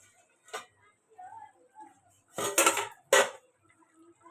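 Metal lid lifted off a cooking pot of mustard hilsa fish curry on a gas stove, giving a couple of brief clanks and scrapes with a faint lighter clink before.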